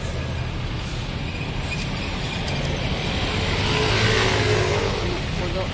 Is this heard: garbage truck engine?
yes